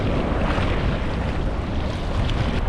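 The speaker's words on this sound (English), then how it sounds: "Some big waves. Look at the big wave." Big ocean waves break and wash at a beach in Bali, a steady, loud roar of surf with wind buffeting the microphone throughout, and no voices.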